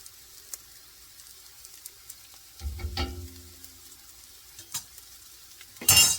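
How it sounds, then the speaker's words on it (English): Garlic sizzles briefly in a soup pot over medium heat, with a short crackling burst and scraping stir strokes, a few soft clinks and a louder clatter near the end against quiet background. "Let that garlic cook down in there."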